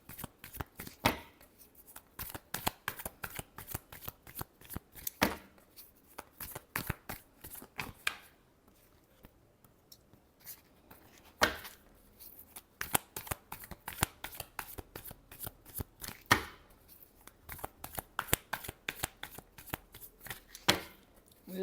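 A deck of tarot cards is shuffled up close in bursts of sharp papery slaps and riffles. The shuffling pauses briefly in the middle, then resumes rapidly, with no voices.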